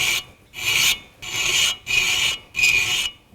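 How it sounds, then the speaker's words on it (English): A file rasps across a 3D printed knife in four evenly spaced back-and-forth strokes, each a loud, close, gritty scrape with brief gaps between them. "And we need to do more filing."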